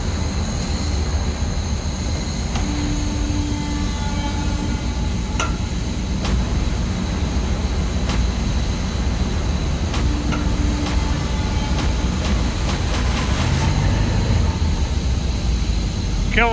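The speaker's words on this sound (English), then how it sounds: "Dumper kickstart." A site dumper is kickstarted and runs steadily, its engine making a continuous low rumble with a few sharp clanks on top and no talking.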